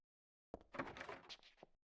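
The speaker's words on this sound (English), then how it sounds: "Broken, can't open the door." A locked door rattling in the horror game Silent Hill 3, a short faint burst of clattering and knocking lasting about a second after silence, alone without speech.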